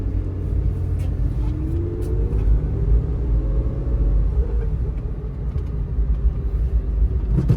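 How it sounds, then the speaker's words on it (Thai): A 2010 Nissan March with a manual gearbox being driven, a steady low engine rumble heard from inside the cabin, with slight changes in pitch as the car moves and shifts gears, and no talking. "เดี๋ยวผมลองขับให้ดูนะครับ"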